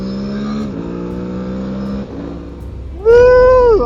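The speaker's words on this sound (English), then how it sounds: "Let's give it some gas and do the quick shifter." Aprilia Tuareg 660 motorcycle accelerating hard on its quick shifter, a loud engine drone that climbs, cuts sharply between gear changes, then snaps up into a higher, stronger rev.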